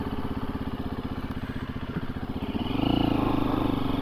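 A 2024 KTM 350 EXC-F dirt bike engine drones at a steady cruising pace with a pulsing, throbbing rhythm, then the pitch and loudness rise as the rider opens the throttle.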